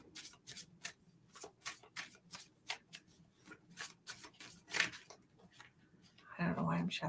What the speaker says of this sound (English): I don't know why I'm shuffling my cards,